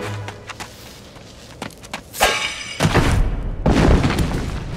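An explosion in the Puss in Boots game on Wii: a sharp shattering crack followed by heavy booming thuds and rumbling debris, growing louder toward the end, with scattered thumps before it.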